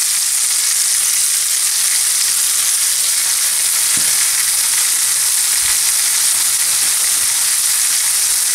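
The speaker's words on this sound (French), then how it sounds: "j'ai mis un petit peu de beurre dans une poêle et je mets dedans les petits abricots" Apricots frying in butter in a pan, with a sugar sprinkle: a steady, close, even sizzle that holds through the whole stretch, with one soft knock partway in and no voices.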